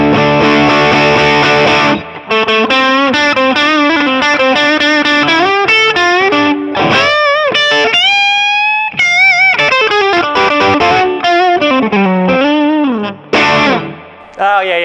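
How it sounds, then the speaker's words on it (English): PRS McCarty 594 Hollowbody II electric guitar on the bridge pickup, played through distortion and effects, loud and close, with sustained chords and melodic bends and brief pauses between phrases. "I can't wait for this bridge pickup."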